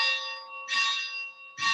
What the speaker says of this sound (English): Oh, there's a bell ringing.